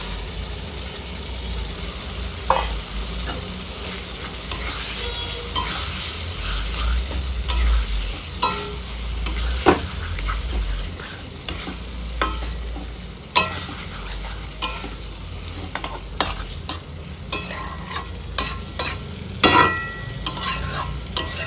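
Marinated chicken sizzles steadily in a pan of frying masala while a spoon or spatula stirs it, scraping and knocking the pan in irregular bursts throughout, with no talking.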